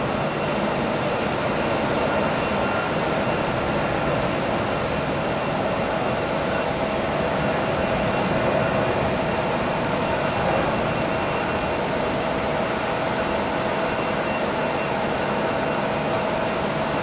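A Condor airliner passing at Hamburg Airport, heard as a steady, loud, broadband engine roar sustained throughout without distinct peaks.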